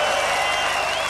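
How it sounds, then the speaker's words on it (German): A concert crowd at a live show in Düsseldorf applauds in a dense, steady wash of clapping and cheering over a brief moment. "Ein höflicher Applaus sei euch in diesem Moment gewährt."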